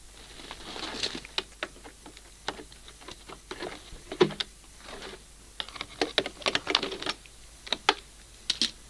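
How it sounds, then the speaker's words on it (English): A socket wrench works at the spark plug of a Makita leaf blower, giving irregular light clicks and small metallic ratchet taps close by in quick uneven bursts, with no speech. "that's the socket now on, and we're just starting to undo the plug"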